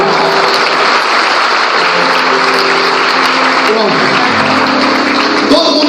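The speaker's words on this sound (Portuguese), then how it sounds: "Uma salva de palmas para ele, por favor." A church congregation applauds at a night vigil in an Assemblies of God cathedral, steady, loud, dense clapping filling the whole span, with voices and a low droning tone running underneath.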